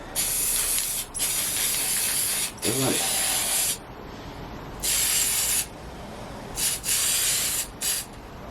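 An aerosol can sprays paint onto a Mr Bean Mini RC car bodyshell in a series of short, close hissing bursts with brief pauses between them, with no talking.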